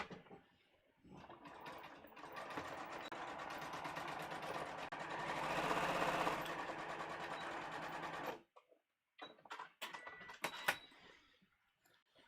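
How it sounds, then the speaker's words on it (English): A sewing machine runs in a steady continuous whir while stitching the seams of a velvet holiday dress, then stops, followed by a few faint clicks and handling noises. "so now let's sew these seams"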